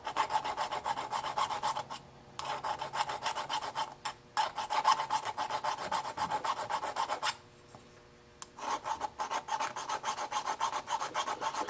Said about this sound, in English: I'm going to file that so it's straight